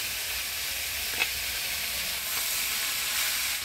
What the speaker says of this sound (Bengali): এবার দিয়ে দিচ্ছি কাটে রাখা শাক আর ফাটে রাখা কাঁচা লঙ্কা